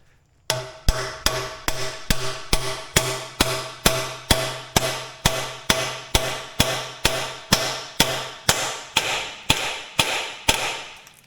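Sharp metal hammer blows drive a race and seal setting tool into a 1999 Jeep Cherokee. About twenty loud, evenly spaced strikes ring out close up after a brief quiet start, with no talking.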